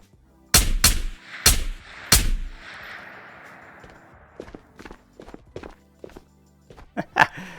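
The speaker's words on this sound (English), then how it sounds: "I'm just shooting anything now." Gunfire in the VR shooter Ghosts of Tabor, four loud sharp shots in quick succession with a ringing tail, then quieter thuds and scattered softer shots and clicks at uneven intervals.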